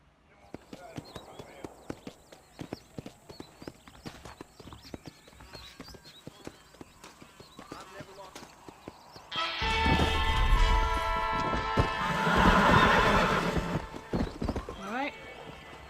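A horse in Red Dead Redemption clip-clops with repeated hoof beats under intermittent speech, then lets out a loud, drawn-out whinny and snorting near the end.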